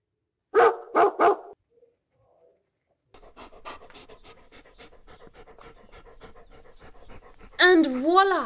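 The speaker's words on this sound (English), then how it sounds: "And voila, one hose-carrying dog." A dog pants loudly in a few short bursts, then keeps up a steady, close breathing rhythm for several seconds while carrying a hose, ending with a sudden louder burst.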